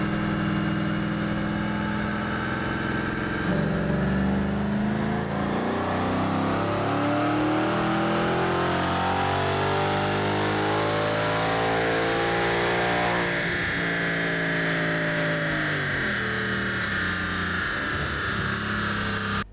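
A Coyote V8 swapped into a Ford F100 pickup revs hard through a dyno pass, its engine note climbing loudly and steadily before easing off and winding up again, with no talk over it.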